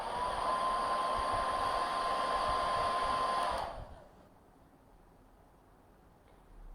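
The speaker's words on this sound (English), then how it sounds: "I'm going to be using the hairdryer for the other eye." A handheld hair dryer blows with a loud, steady whoosh and a faint whine for about three and a half seconds, then switches off, leaving near silence. It is used near the face to set curled eyelashes.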